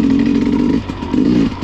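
An enduro motorcycle rides a muddy course, its engine loud and close in two surging bursts of throttle with a short lull between.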